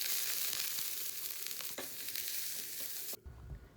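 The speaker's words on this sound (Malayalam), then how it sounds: "എന്നിട്ടൊരു പാനിലേക്ക് ഇച്ചിരി വെളിച്ചെണ്ണ ഒഴിച്ചിട്ട് കടുക് പൊടിച്ചിട്ട് കറിവേപ്പിലയും നമ്മളിപ്പോൾ ഒതുക്കി വെച്ച തേങ്ങ മിക്സ് ഉണ്ടല്ലോ അതും കൂടി ചേർത്തിട്ട് നന്നായിട്ടൊന്ന് മൂപ്പിച്ചിട്ട് എടുക്കുക" Coconut mix with mustard seeds and curry leaves fries in coconut oil in a pan, a loud, steady, close sizzle with a few stirring ticks before the sound cuts off abruptly near the end.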